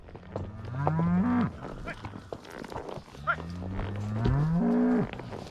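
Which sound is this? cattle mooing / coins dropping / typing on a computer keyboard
cattle mooing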